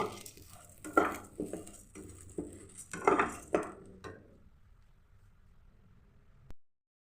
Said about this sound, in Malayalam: നമുക്കിത് വറുത്തെടുക്കാം കേട്ടോ